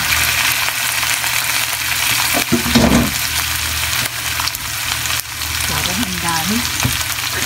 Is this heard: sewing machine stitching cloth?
no